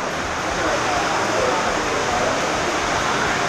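Indoor waterfall inside a room at Courtallam, a loud, unbroken rushing roar of falling water filling the space from start to finish, with no other sounds standing out.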